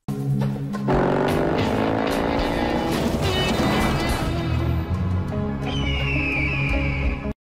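A car races past a bison-like demon in a film scene, its engine surging and revolving up loudly, with a rising whine and a brief squeal near the end.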